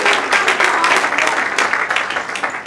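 A gala audience breaks into applause, dense clapping from many hands in a large room that stays loud and even from start to finish.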